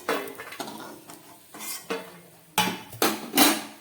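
Metal utensils clink and scrape against a pan of hot oil as fried homemade black-gram lentil dumplings are lifted out, several sharp close knocks in an uneven rhythm with no talking.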